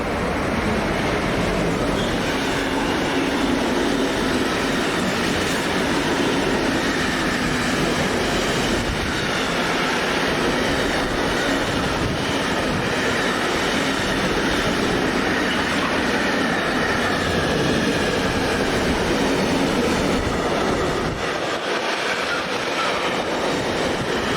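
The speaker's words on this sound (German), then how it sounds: "So, dann haben wir den nächsten Güterzug hier." A freight train hauled by a class 193 locomotive rolls past on the Gotthard line at Altdorf, a long continuous roar of wagons and wheels on rails, loud and close throughout with no speech.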